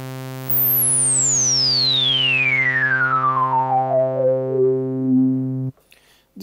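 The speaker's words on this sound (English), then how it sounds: "This is how the 12 dB per octave ladder filter sounds." A SynthMaster One synthesizer tone through a 12 dB per octave ladder filter sweeping steadily downward from bright and whistling to a low, buzzy growl, holding a steady drone, then cutting off abruptly.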